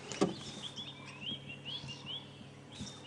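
African dawn chorus on a sunrise safari drive, with bulbul, fork-tailed drongo and oxpecker: faint, thin chirps and short whistled phrases over quiet background hiss, with one sharper call near the start.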